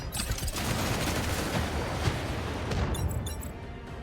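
Gunfire while shooting an enemy in the mech video game Mecharashi, a dense rapid fusillade of shots that runs steadily throughout, with a few brighter crackles near the end and no talk.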